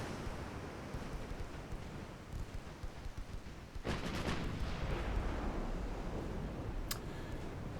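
Heavy 12-inch naval guns boom in a naval video game, a Japanese campaign battle, with a sharp broadband blast midway and a brief crack near the end over a constant low rumble of surf-like background noise.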